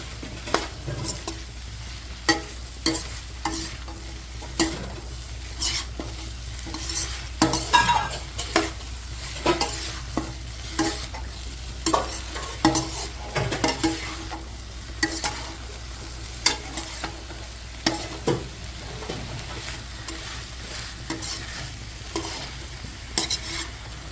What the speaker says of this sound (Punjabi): ਗੋਭੀ ਪਾ ਕੇ ਮਿਕਸ ਕਰਤੀ ਆਪਾਂ